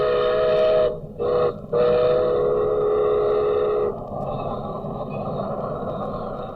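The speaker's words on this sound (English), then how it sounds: "I think there's a train coming in." A train pulls in with its whistle sounding in several loud, steady blasts that stop and start, then gives way to the rolling rumble of the cars. A voice can be heard speaking partway through.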